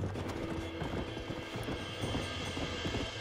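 Horses trot nearby in the Red Dead Redemption video game, hooves clip-clopping in a quick steady rhythm over a faint ambient bed.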